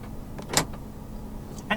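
A couple of quick mechanical clunks from a 2018 Toyota Harrier 2.0 Turbo's central locking, brief and close, over a low steady hum.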